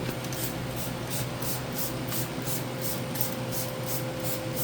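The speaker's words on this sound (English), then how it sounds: "so let's just spray this on here and see" Repeated quick spritzes of water from a trigger spray bottle, about a dozen short hisses in a steady rhythm over a constant background hum.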